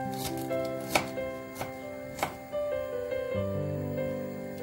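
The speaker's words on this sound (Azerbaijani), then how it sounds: "Kələmləri baxın belə nazik-nazik doğradım" Thin strokes of a knife shredding cabbage for a salad, a steady rhythm of sharp cuts with a few louder chops standing out, close by and without talk.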